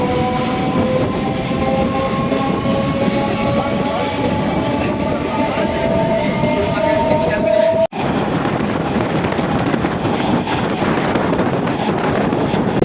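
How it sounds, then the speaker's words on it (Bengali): A train leaving Panagarh station at night rumbles loudly and steadily, with faint whining tones over the wheel noise and a brief sharp break partway through. "তো চলো পানাগড় স্টেশন থেকেও ছেড়ে দিয়েছে"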